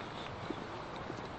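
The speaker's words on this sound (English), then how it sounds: "We've seen two horses." A horse's hooves clip-clop on a country road near Murray Bridge, two faint soft knocks about half a second apart over a constant wind-like rumble.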